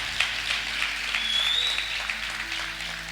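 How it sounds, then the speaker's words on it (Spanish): A church congregation gives an applause during a sermon. The clapping is steady and moderate, with a faint whistle or tone drifting over it in the middle. "le damos un fuerte aplauso a Cristo"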